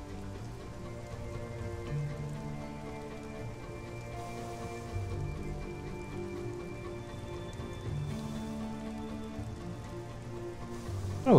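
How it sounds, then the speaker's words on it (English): Steady patter of video game rain falling on a surface in Sunless Skies, continuous and even throughout, with a faint tonal hum underneath and no voices. "I think it's rain."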